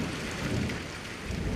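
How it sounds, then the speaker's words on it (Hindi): Heavy storm rain pours down in a jungle, a dense continuous roar of downpour with low rumbling undertones and no voices. "बारिश तो बहुत ज्यादा है"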